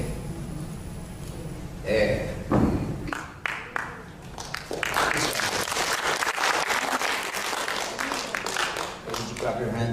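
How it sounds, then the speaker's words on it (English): Audience clapping during a product presentation, starting with scattered claps after a few thumps and building into steady applause from a room full of people, with some talk mixed in early on. "Did you clap your hands?"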